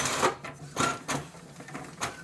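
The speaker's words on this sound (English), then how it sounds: "this printer prints quite fast, so let's wait a few seconds" A Brother MFC-J1360DW inkjet printer printing a page makes a series of close mechanical whirs and clicks as the print head shuttles back and forth, repeating roughly every third of a second with no talking.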